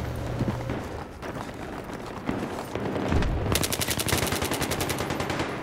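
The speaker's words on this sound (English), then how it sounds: "Time for my favorite gun. AEK." Rapid automatic fire from an AEK assault rifle in a first-person shooter game, a dense burst of close, sharp shots building into a steady chatter over in-game noise.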